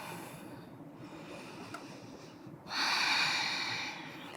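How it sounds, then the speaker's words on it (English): Deep breathing during a home vinyasa yoga session: a quiet, steady background, then a loud, close, airy exhale through the nose or mouth lasting about a second and a half. "Few deep breaths here."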